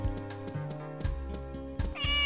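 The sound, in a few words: cat meowing in the video game Harvest Moon: Magical Melody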